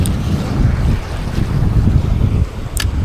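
Wind gusts steadily across the Swan River shore near Perth, a broad blustery rush buffeting the microphone, with a brief sharp knock near the end and no talking.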